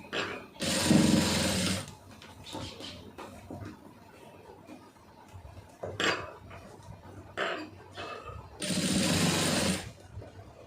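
A sewing machine stitches a lined blouse in two loud, sustained runs of rapid mechanical clatter, one early and one near the end, separated by quieter handling noises and short bursts.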